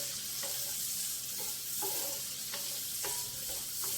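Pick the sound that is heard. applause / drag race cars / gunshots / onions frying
onions frying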